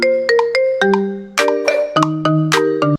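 A custom iPhone ringtone plays back loud and clear: a bright, chiming electronic melody of quick repeated notes and chords, heard alone.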